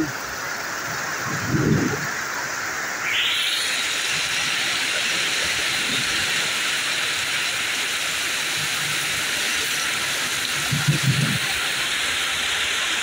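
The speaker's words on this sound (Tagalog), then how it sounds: "Grabe ang lakas ng ulan oh." Heavy rain pours down steadily in a dense, even hiss that fills the whole stretch, with a few low thumps and a brief rise in the roar partway through.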